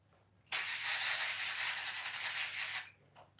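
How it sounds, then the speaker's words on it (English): A continuous spray bottle mist hisses for about two seconds, close and fairly loud, spraying down an isopod enclosure, starting and stopping abruptly against a quiet background. "they're just going to get a standard regular spray down"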